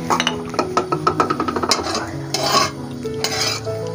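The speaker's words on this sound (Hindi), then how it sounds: "घी हमारा गर्म हो चुका है, अब हम शामिल करते हैं इसमें इलायची के दाने।" Cardamom seeds stirred in hot ghee in a pan, with quick rhythmic clinks and scrapes of a spoon over a light sizzle, followed by a few softer bursts of frying.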